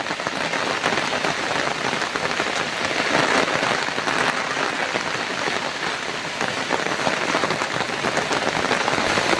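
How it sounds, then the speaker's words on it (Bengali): Heavy rain pours steadily on a Sundarbans village, a dense, loud hiss of drops hitting surfaces with no letup and no voices. "প্রচুর বৃষ্টি"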